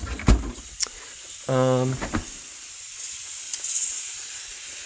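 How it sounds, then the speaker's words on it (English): The steam wand on a Breville Barista Express BES870 espresso machine gives a short buzzing pump tone, then a rising airy hiss of steam, with a few clicks scattered throughout. "Turn on the steam on this side."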